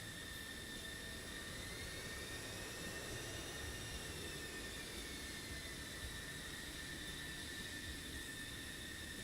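Jet aircraft taxiing toward a runway in a video game give off a constant, faint turbine whine and hum, steady and even throughout with no speech.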